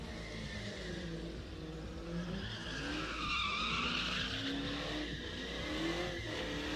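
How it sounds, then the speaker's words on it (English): A Dodge Charger does a burnout at a drift pit, its tires squealing and skidding in long wavering howls over a revving engine, loud and close without any talk. "Dodge Chargers aren't that good at burnouts"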